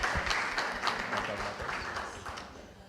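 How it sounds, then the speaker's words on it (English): Conference audience applauding after a morning speech, a continuous dense patter of clapping from a room full of people, moderately loud and tapering off slightly. "Let's have another round of applause."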